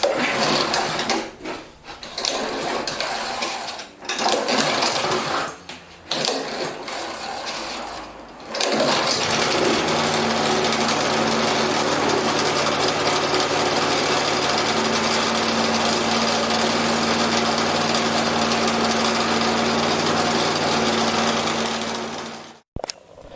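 Scrapyard lawn mower with a stuck throttle and missing throttle cable is pulled several times in short bursts, then catches and runs at a steady, loud, buzzing high idle before cutting out abruptly at the end.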